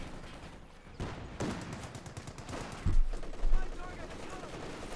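Light machine guns rattle in Company of Heroes 2, quick bursts and scattered shots mixed with heavier thuds and battlefield noise while a commentator talks over the action.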